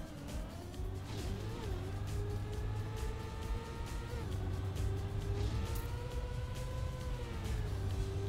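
A car engine drones steadily while drifting in a video game, its whining pitch bending up and down as it slides, with a constant low rumble underneath throughout.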